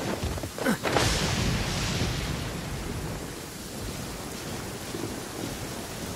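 Rain and thunder in the video game Genshin Impact. A rumble of thunder opens the scene, and steady rain hisses on afterward, alone with no talking.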